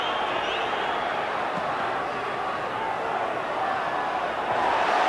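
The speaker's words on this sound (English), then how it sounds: "Well, the referee being pressured by the crowd." Football stadium crowd at Celtic versus Motherwell in 1995, a continuous broad roar of thousands of spectators heard from a distance, steady and moderately loud, with faint commentary voices mixed beneath.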